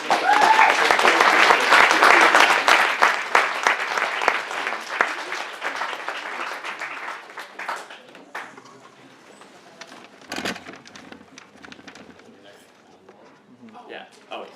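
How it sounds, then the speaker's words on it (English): Dense audience applause for a student government vice president, loud at first and then thinning into scattered claps as people begin chatting underneath. "Let's give a round of applause for our Vice President."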